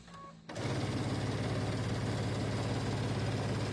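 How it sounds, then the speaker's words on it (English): A sewing machine stitching quilt squares for a star-spangled table runner starts up after a brief quiet moment, then runs in a steady, fast mechanical whir with a rapid needle rhythm, close and continuous. "I have just sewn a line on each side of the drawn line, 1/4 of an inch"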